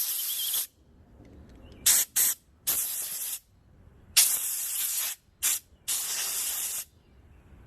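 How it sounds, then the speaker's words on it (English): Sharp bursts of compressed air hiss from an air compressor nozzle blowing off small two-stroke carburetor parts, several blasts of varying length separated by quiet gaps, close and loud. "Then I take my air compressor and I spray it off."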